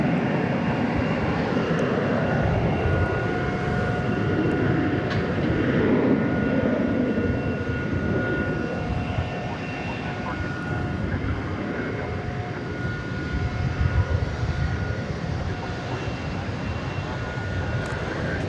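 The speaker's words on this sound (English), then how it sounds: "There goes American Flight 2587. It's a Airbus A321 off to Salt Lake City." American Airlines Airbus A321 jet taking off from Dallas Fort Worth at night, a steady sustained engine roar with whining tones throughout, heard from some distance with faint background noise.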